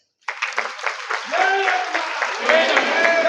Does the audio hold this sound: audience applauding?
yes